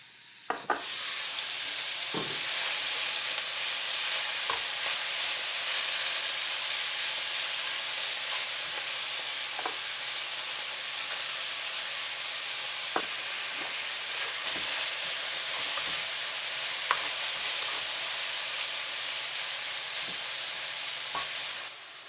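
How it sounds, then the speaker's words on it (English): Chopped white onion fries in meat fat in a pan for a shepherd's pie, giving a steady, dense sizzle that runs the whole time with scattered small crackles and a few sharper pops. "As soon as I have a little bit of the fat in the pan, I'm going to add some chopped onions"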